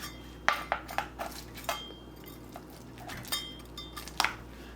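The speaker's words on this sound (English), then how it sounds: "So we're just gonna cut right into it to see what it tastes like." Utensils cut into a baked tater tot casserole in a dish, sharp clinks and scrapes of metal on the dish arriving in an irregular run of close taps.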